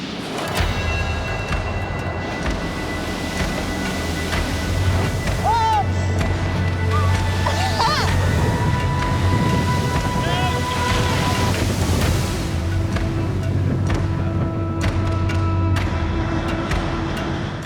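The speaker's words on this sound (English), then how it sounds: "this is the bit of the journey where the seas start to get slightly more treacherous" Rough sea surges and rushes around a boat on a Greek island crossing, a loud continuous roar of water and wind with a low engine drone underneath.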